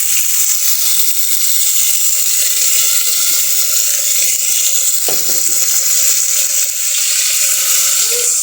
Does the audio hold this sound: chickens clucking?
no